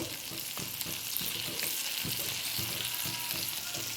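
Masala for a prawn malai curry fries in a pan while being stirred, a steady close sizzle broken by rhythmic scraping strokes of a spoon throughout.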